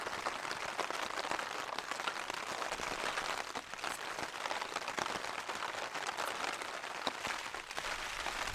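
Steady wind-driven rain pattering on a tent during a gale in a winter mountain storm, a dense continuous hiss with scattered sharper drops, close and loud throughout with no voices.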